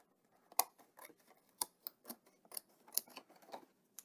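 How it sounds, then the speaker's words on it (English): Scissors snip a half circle into a paper marble run piece, a string of quick, crisp close-up cuts in an uneven rhythm, faint and with no talking. "use that to start cutting along with your scissors"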